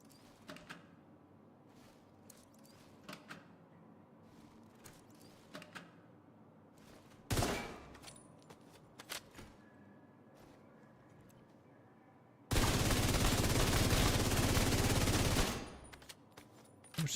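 Gunfire at the regular shooting range in The Division 2, scattered single shots early on, then a loud sustained automatic burst lasting a few seconds near the end.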